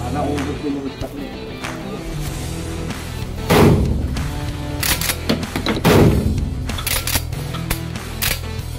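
A Hunt Group MH-Tactical 12 gauge pump shotgun from Turkey fires 00 buckshot: two heavy booming shots a few seconds apart, nearby and loud, separated by mechanical clacks and handling noises.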